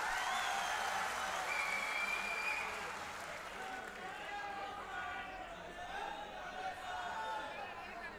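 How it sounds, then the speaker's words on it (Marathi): Applause from a crowd welcoming a guest at a Marathi public speech event, loud at first and then settling into steady clapping with some background chatter for about eight seconds. "जोरदार टाळ्या वाजवून स्वागत करा."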